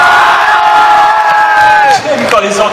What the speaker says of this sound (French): Applaudissements pour le petit papier.